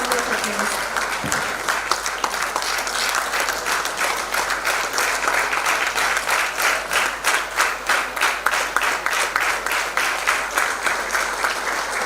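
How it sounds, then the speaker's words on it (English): Sustained audience applause at a formal business-chamber event welcoming Union Minister Nirmala Sitharaman for a keynote address; dense, steady clapping from a large crowd fills the room throughout, loud and continuous without speech. "Please welcome Honorable Minister Srimati Nirmala Sitharaman ji with a huge round of applause"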